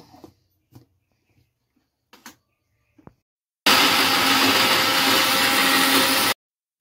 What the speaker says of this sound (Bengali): ছোলার ডালটা আমি মিক্সিতে বেটে নিচ্ছি, একদম মিহি করে বেটে নেব